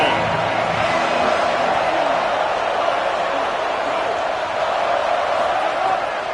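College football stadium crowd, a dense loud roar of thousands of fans holding steady throughout, with a voice talking over it.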